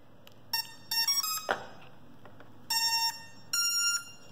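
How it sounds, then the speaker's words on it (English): A series of electronic tonal beeps from a brushless motor's ESC on a modified Stryfe foam blaster, short rising chirps followed by two longer sustained beeps, close and clear with a click between. "So there's your distinctive ESC beeps"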